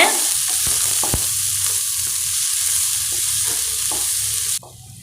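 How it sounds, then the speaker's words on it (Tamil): Steady loud sizzling of onions and ginger frying in a pan for masala egg poriyal, with occasional scraping and stirring clicks, ending in a sudden drop to quieter hiss. "வெங்காயம் நல்லா வதங்கியாச்சுங்க"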